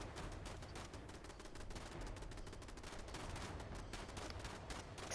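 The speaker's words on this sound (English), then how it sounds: "So sorry, my turrets are going off." Automated turrets firing in Fallout 76, rapid bursts of gunfire crackling continuously at moderate distance, fairly faint and steady without pauses.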